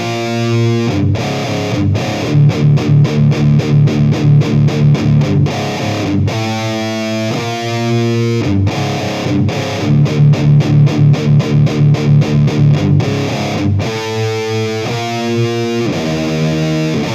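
Heavily distorted electric guitar plays a loud, dense riff of rapid repeated palm-muted chugs broken by sustained chords, close and unaccompanied by speech.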